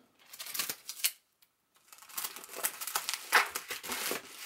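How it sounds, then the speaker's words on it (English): Adhesive tape being pulled and pressed down over cables, crinkly tearing and crackling bursts that come in irregular clusters, with a short silent gap partway through. "I basically just taped that down, guys, to, you know, cover the cables and the controller at the top"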